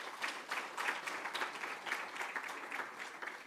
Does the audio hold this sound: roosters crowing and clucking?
no